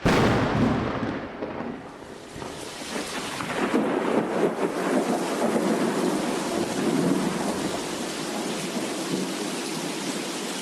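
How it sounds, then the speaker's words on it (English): Heavy rain pours down steadily at the Barber race track, with deep rumbling thunder rolling through a constant loud wash of rainfall; no voices. "all of a sudden the sky opened up and started raining on us"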